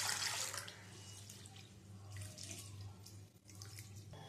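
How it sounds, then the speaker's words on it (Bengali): Rice is rinsed in water that is changed again and again, making a steady faint rush of running water with splashing, heard alone at a low level. "চালটাকে ভালো করে জল পাল্টে পাল্টে ধুয়ে নেব।"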